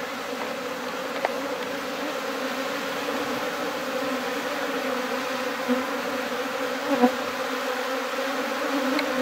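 A swarm of Japanese honeybees buzzes outdoors as the colony takes off, a dense, steady drone of countless wings with a few louder bees passing close by.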